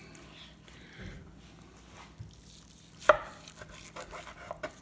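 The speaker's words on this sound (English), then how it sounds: "Let's slice the breast instead of, because sometimes I just cut it like this." A knife slicing a cooked chicken breast from a KettlePizza-fitted kettle grill, soft intermittent cutting strokes on a board with one sharper knock, close and fairly quiet over faint background hiss.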